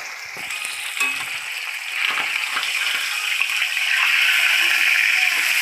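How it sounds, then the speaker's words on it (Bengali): Pomfret fries in a pan of oil with a steady, crackling sizzle that grows a little louder, with occasional soft clinks nearby. "মাছটা ভাজা হচ্ছে"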